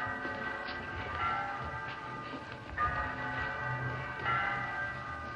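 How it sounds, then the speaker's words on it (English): Church bells in Budapest ring faintly in the distance, their tolling swelling in a few slow waves over a soft background hum. "All the church bells in Budapest must be ringing."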